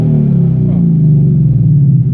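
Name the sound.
2015 Ford Mustang GT engine revving, Flowmaster exhaust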